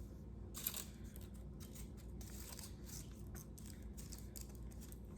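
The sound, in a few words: tape being torn and applied over foil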